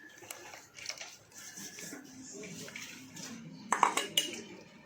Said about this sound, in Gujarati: હવે તેને આપણે હલાવવાનું છે આ રીતે મીડિયમ આંચ પર, જેથી કરીને ચોંટે નહીં નીચે